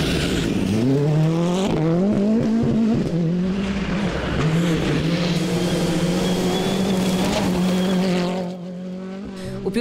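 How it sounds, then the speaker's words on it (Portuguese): A Ford Fiesta R5 rally car races through a stage at the Rally de Mortágua, its engine loud and close, revving up through rising gear pulls for most of the run before fading slightly at the end. "Ao volante deste Ford Fiesta R5 segue João Barros"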